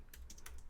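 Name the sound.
typing npm install command on computer keyboard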